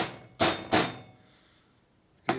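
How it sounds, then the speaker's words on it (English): Two sharp metallic taps of a hammer on a punch close together, then a pause and a third tap, ringing briefly, close and fairly quiet, during a 1952 Harley-Davidson Panhead cylinder head rebuild. "So just tapping in with a punch and a hammer."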